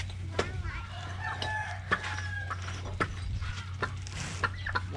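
At a Vietnamese grave-opening ceremony, a chicken clucks and crows in short, repeated calls close by, mixed with voices talking and a steady low hum.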